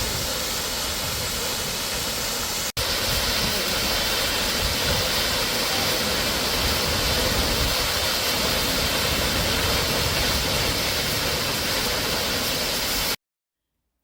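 Jeongbang Waterfall in Jeju pours down in a constant, loud, close roar of rushing water that barely changes. There is a split-second dropout near the start, and the sound cuts off abruptly near the end.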